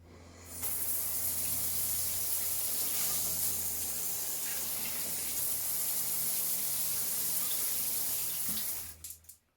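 Water runs steadily from a newly installed shower head in a home bathroom, a constant close hiss and spray that starts abruptly and cuts off near the end, with no talking.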